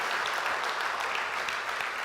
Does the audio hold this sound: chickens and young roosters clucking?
no